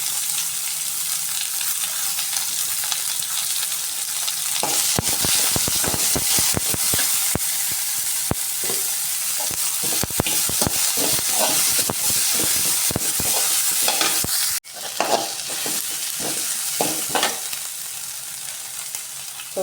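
Mustard seeds crackle in hot oil in a pan with rapid sharp pops over a constant sizzle. Then two chopped large onions go in, and the popping gives way to a softer, steady frying hiss.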